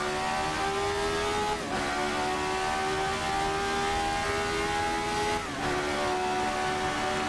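An RSS Formula 79 race car's 3-liter V8 howls at about 8,000 RPM, holding a steady, loud whine with two brief dips as gears shift.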